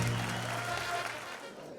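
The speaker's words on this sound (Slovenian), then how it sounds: "In aplavz za profesorje." Applause for professors at a school graduation dance, a hall full of clapping that starts loud and slowly fades over about two seconds.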